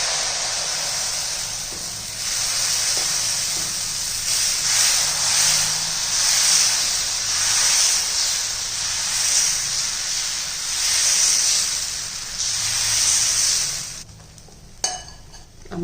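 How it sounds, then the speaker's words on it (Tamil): Dosa batter made from multigrain flour spread on a hot pan gives a steady, loud sizzle and hiss that swells and eases for several seconds, then cuts off abruptly near the end. "தோசை ஊற்றிடுவோம்."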